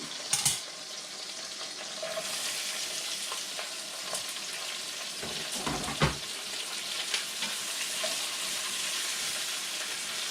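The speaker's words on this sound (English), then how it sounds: "We're going to throw some onions in there." Roughly chopped onions frying in a pot for a braised pot roast, giving a steady bright sizzle with occasional stirring clatter and small pops, moderately close and continuous without talk.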